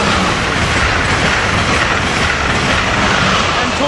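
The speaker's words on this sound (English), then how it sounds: "This has got to be Acela train 2121 coming south out of Newark, New Jersey." An Amtrak Acela high-speed train rushes past heading south from Newark, New Jersey, a loud, dense, continuous roar with faint clatter underneath, close by and steady throughout.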